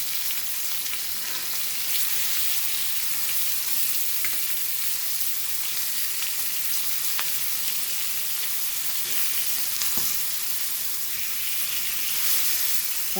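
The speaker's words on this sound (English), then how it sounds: "The fried fish is also getting ready." Hilsa fish frying in a pan for a Goan fish fry, a steady close sizzle with crackling oil that runs the whole time with no talk.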